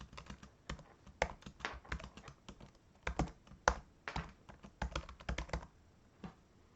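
Keys clatter on a computer keyboard as a wallet password is typed in, a close, quick run of uneven taps with short pauses, alone without talk.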